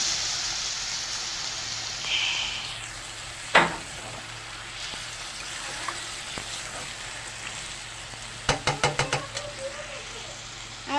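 Water splashes into a pan of fish curry with a brief loud burst, then frying sizzle continues steadily, with a quick run of clattering utensil clicks near the end; no one speaks.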